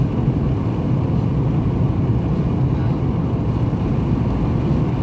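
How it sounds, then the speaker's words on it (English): Steady low rumbling road noise and wind rush from a car with windows open, driving between Amargosa Valley and Las Vegas, constant and fairly loud, no talking. "Sorry for the road noise and"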